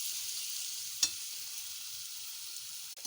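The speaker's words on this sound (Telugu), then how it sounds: "పసుపు, కారం, సాల్ట్ వేసి బాగా ఇలా వేపాలి." Fish masala with turmeric, chilli and salt fries in a pan, a soft, steady sizzle with a couple of brief utensil knocks, fairly faint overall.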